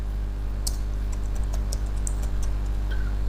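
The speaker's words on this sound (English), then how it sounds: "I'm going to be type here food allowance." Light typing on a computer keyboard, a handful of soft, irregular key clicks at close range over a steady low electrical hum, with no talking.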